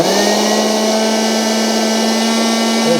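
A small handheld car vacuum cleaner motor whirs steadily at close range, a loud, even high-pitched drone that holds without change.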